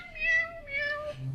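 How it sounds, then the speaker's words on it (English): An "angelic meow" sound effect played from a phone app: a single synthetic cat meow with a drawn-out, wavering tone, heard clearly and alone. "There's this is the best one, angelic meow"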